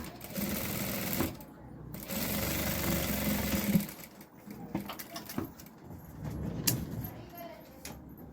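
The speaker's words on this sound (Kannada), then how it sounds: "ಎರಡು ಸ್ಟಿಚ್ ಹಾಕ್ಕೊಳ್ಳಿ. ಡೋರಿ ಗಟ್ಟಿಯಾಗಿ ನೀಟಾಗಿ ಬರುತ್ತೆ." An electric sewing machine stitches a fabric dori in fast whirring bursts, stopping and restarting, with short pauses and light clicks between runs.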